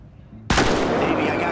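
A single sharp gunshot in the video game GTA 5 cracks suddenly out of near silence, followed by a dense, lingering noisy tail.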